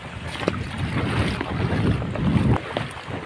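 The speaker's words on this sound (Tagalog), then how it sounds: "Malakas na pati yung hangin" Strong wind buffets the microphone in continuous gusty roars, with a broad rushing noise and churning sea water underneath during shrimp catching; no voices.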